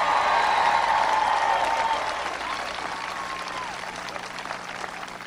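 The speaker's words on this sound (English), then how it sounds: "Can everybody please give Jeff a big round of applause for that great introduction?" A crowd at a campaign rally in Columbus, Ohio, applauds with dense, sustained clapping and some cheering that gradually tapers off while still going, heard from within the audience.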